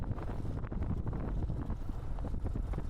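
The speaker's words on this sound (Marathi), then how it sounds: "थंड असा वारा" Cold wind blowing across an open monsoon outdoor spot at Ozarkhed, buffeting a microphone with loud, gusty low rumbles and constant rushing noise, no speech.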